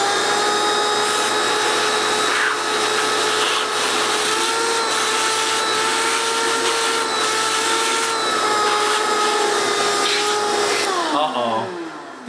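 A shop vac drones steadily inside a piano, a loud continuous motor whine with a steady tonal hum that runs for about eleven seconds before spinning down at the end; no one speaks.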